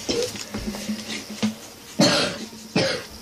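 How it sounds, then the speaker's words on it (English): An ill person coughs close by several times. The sharp bursts come at irregular intervals, with a little throat clearing between them. "Guys, I'm sorry if you keep hearing us cough."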